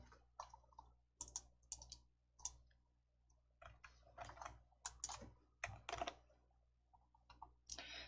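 Quiet, close typing on a computer keyboard during Hangul word-processor practice: irregular bursts of crisp key clicks with short pauses between them, and no speech.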